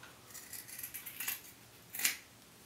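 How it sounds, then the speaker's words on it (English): Scissors snipping the ankle and toe off a sock, a few soft close-up cuts followed by one sharper snip near the end, in an otherwise quiet room. "I just cut off the little ankle part and then I flip it over and cut off the toe"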